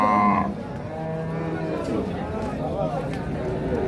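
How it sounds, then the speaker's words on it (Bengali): A high-quality Holstein Friesian dairy cow at a cattle market gives a short, close lowing call at the start, followed by a fainter drawn-out moo while people talk nearby throughout. "আমরা হাটের একটা একেবারে হাই কোয়ালিটির হলিস্টিন ফ্রিজিয়ান গাভী দেখছি"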